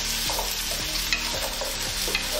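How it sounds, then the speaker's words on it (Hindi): Potato and carrot pieces sizzle in a pan over high flame while a spoon stirs them, scraping rhythmically against the pan every half second or so, close and steady with no talking. "अब इसमें डाल देते हैं गाजर। इसे हाई फ्लेम पर 2 मिनट तक चलाएं।"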